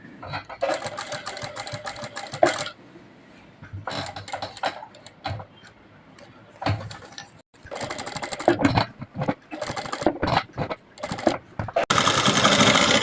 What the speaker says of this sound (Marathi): अशा पद्धतीने शिलाई टाकून घ्यायची आहे